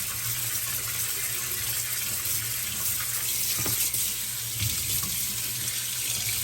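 Water runs steadily into the tank of an Arctic Air Pure Chill evaporative cooler, a continuous close rushing and splashing from a tap with no voices.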